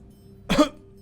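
A single short, close cough breaks through a quiet room with a faint steady hum in the background.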